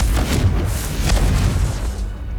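A Confringo fire spell detonating in Hogwarts Legacy on PS5, a deep, rumbling boom with thudding low bursts that rolls on for about two seconds before fading, loud and near, with no voices.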